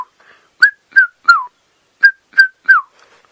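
A person whistles an imitation of a red-chested cuckoo call: two close groups of three clear, descending whistled notes separated by a short pause, loud and near.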